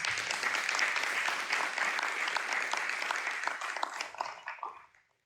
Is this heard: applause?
yes